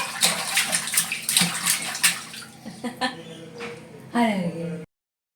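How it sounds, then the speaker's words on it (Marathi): Bursts of water splashing in a bathtub, irregular and close, mixed with a voice and a child's sounds. "पाणी खेळ पाणी पाणी खेळ पाणी किती काढते"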